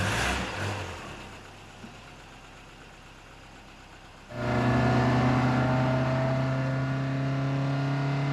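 A classic Ford Mark III car with its engine starting up after a quiet stretch, settling into a steady, loud, close idle-to-running drone with no voices over it.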